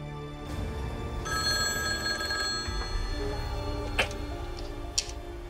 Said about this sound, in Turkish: Vallahi kulağımız telefonda kaldı Figen Hanım.